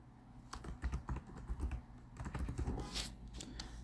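Fingers type quickly on a computer keyboard in quiet, rapid clusters of soft clicking keystrokes, with no voice.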